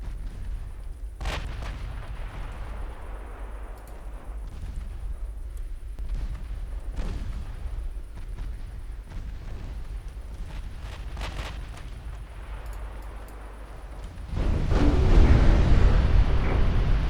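Naval gun battle in Ultimate Admiral Dreadnoughts, with 6-inch and 5-inch guns firing as a steady low rumble broken by sharp booms, then a louder, heavier roar of fire swelling near the end.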